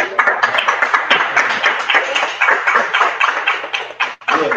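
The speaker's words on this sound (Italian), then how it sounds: "Facciamo un bel applauso" An audience at a philosophy talk on Schopenhauer's art of being happy claps steadily and fairly loudly for several seconds, a dense even patter that drops off briefly near the end.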